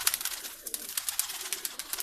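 Parwazi pigeons coo softly in a few low, rounded calls while faint rustling and chirping sounds carry on around them.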